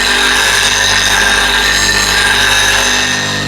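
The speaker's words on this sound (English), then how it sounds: "So just rotate it to the left in your right hand and push it up the wheel" A knife blade is pushed and rotated against a spinning grinding wheel, a loud steady whirring grind that holds continuously close up with no pauses, easing slightly at the end.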